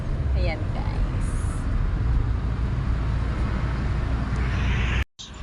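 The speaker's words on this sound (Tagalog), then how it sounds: "Traffic guys." Steady street traffic rumble of cars and buses, loud and continuous, with people talking over it throughout and a brief dropout near the end.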